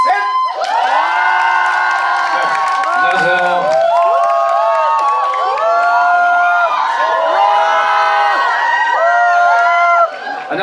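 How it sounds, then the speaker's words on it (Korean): A theater audience at a Veteran 2 opening-day stage greeting cheers, whoops and applauds loudly and continuously to welcome the director and actors, with excited shouts rising throughout before tapering off at the end. "진짜 네큰 박수와 환호로 감독님과 배우분들 한번 불러보도록 하겠습니다"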